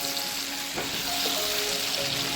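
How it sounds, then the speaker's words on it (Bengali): Onions frying in a pan for palak chicken, a close, continuous crackling sizzle with a brief scrape of stirring, no talk over it. "পেঁয়াজটা আমার এরকম ভাজা হয়েছে।"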